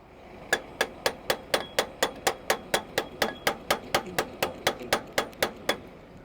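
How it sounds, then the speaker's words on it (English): A hammer strikes metal again and again to free a stuck button on farm equipment ramps. About twenty sharp, evenly spaced bangs ring out close and loud, with no talking. "Just need to hammer it off."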